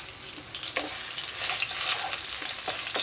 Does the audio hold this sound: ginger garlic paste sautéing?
yes